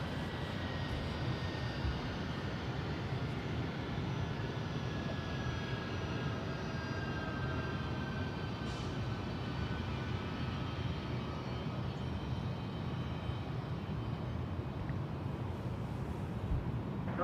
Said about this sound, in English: Delta 1446 headed to Detroit, the 757-300.